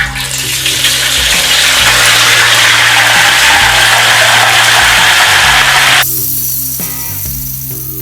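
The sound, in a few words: tempeh frying in hot oil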